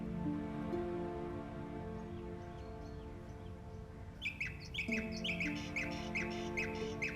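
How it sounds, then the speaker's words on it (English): Birdsong outside, nightingales trilling in repeated short high phrases over a steady low hum of an indoor room, moderately faint and alone with no talk. "Do you hear the nightingales out there? Their song is so lovely."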